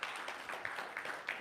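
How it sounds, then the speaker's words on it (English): A church audience applauds a volunteer named Shirley during a service, a faint, steady wash of clapping with slight swells, heard from a distance. "Let's give Shirley a round of applause"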